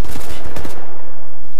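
Rapid burst of gunfire from a first-person shooter, Wolfenstein: The New Order, several sharp close shots in quick succession that stop abruptly, leaving a fading tail.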